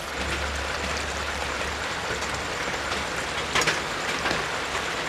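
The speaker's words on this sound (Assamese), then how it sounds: "এতিয়া এখিনি মই ভালদৰে লৰাই উতলিবলৈ দিছো।" A fish head and jackfruit seed curry bubbles at a steady simmer in a pan, giving a dense, continuous hiss with occasional faint pops close by.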